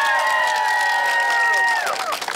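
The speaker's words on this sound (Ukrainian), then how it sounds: "Оплески Миколі." A crowd at an outdoor karaoke contest on the Maidan in Kyiv cheers and applauds, loud and sustained, with a sung or shouted tone carried over the roar before it thins toward the end.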